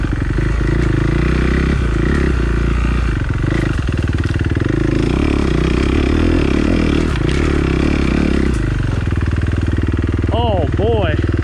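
Off-road motorcycle engine labouring in first gear while climbing a hill on a raw singletrack trail, a loud, continuous close-up drone with clattering and scraping, wind-buffeted throughout.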